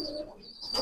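A male teddy-breed pigeon gives one short, soft coo close by, with no voices.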